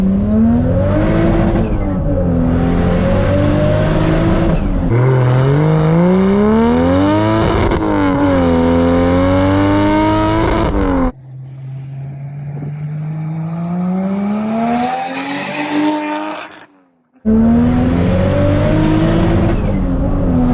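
A 600hp MK4 Toyota Supra, rear-wheel drive, revs hard and close in repeated rising pulls that bounce off the rev limiter, loud and near, with a quieter lull before the engine roars back up.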